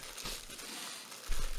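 Soft crinkling and rustling, like a plastic or paper bag being handled close to a microphone during a live stream, with a louder crunch near the end.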